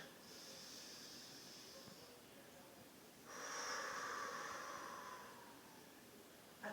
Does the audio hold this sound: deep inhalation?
yes